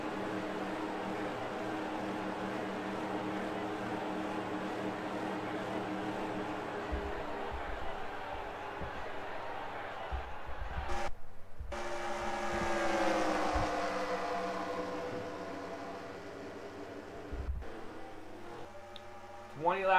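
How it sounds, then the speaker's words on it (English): Video game race car engines drone steadily at Pocono, then rise in pitch as cars pull away together off the grid, with a broadcaster's voice talking over the roar. "Engines are fired, the cars are rolling off the grid."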